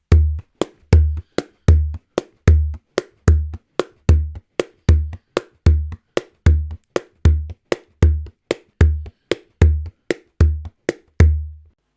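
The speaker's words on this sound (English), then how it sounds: "the rhythm that I'm going to show you today has a low tone on beat 1, a high tone on beat 3" Bodhrán frame drum playing a steady jig rhythm that alternates deep low-tone and brighter high-tone strokes, about two dozen sharp, evenly spaced hits in a repeating pattern, close and alone with no talk.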